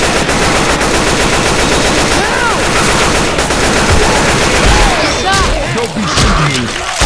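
Rapid, loud automatic gunfire in the zombie shooter Left 4 Dead 2, with dense bursts running almost continuously for about seven seconds and voices heard in places.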